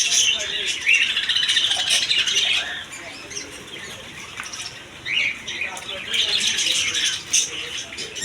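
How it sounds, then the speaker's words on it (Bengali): Parrots and pigeons at a busy bird market, with shrill squawks and chirps coming in bursts up close, some wing flapping, and talk in the background. "আরও এখানে পেয়ে যাবেন টেম করা টিয়া পাখি হাতে কাঁধে বসে এরকম ধরনের টিয়া পাখি পেয়ে যাবেন এখানে"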